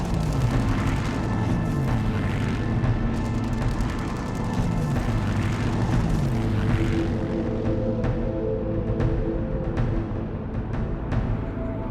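Spitfire fighter aircraft from Biggin Hill heading into action in the Battle of Britain, a loud sustained engine roar with rumbling booms and a sweeping pitch, with no talk.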